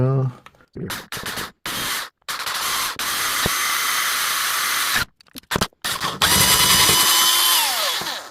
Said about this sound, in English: Right, moving in with the bigger drill